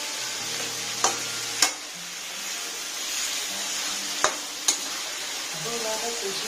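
Mutton being stirred and fried in a pan for a curry, with a steady sizzle and a few sharp clinks of the utensil against the pan, under faint background hum.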